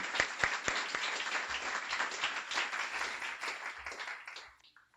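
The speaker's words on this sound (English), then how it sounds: "let's give it a round of applause for them as well" An audience at a Guiding Eyes guide dog graduation ceremony claps, with a few sharp close claps standing out of a broad patter that slowly thins and fades out near the end.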